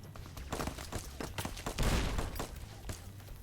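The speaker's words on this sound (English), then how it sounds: "I was forced here to start using my Magnum, which I had been saving as my backup." A Magnum revolver fired in Fallout: New Vegas amid a busy firefight, with a quick series of sharp shots and a heavier blast near the middle. The shots are moderately loud and there is no talk.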